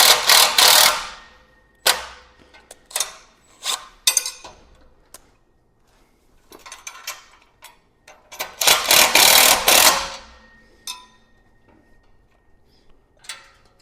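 A cordless impact wrench tightens bolts on a wheel kit being fitted to a tractor landscape rake. It fires in loud, rattling bursts, some short and some several seconds long, separated by quiet gaps.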